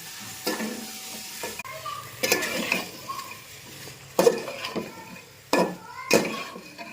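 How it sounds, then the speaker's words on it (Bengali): Meat goes into spiced oil in a cooking pot, with bursts of sizzling and the clank and scrape of a metal spoon against the pot as it is stirred in uneven strokes, close and fairly loud. "এখন আমি মাংসটা ঢেলে দেবো। মাংসটা দিয়ে দিলাম।"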